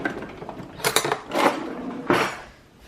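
Dishes and cutlery clinking in a home kitchen as a spoon is fetched, a few scattered metallic clatters and scrapes in separate bursts, close and moderately loud.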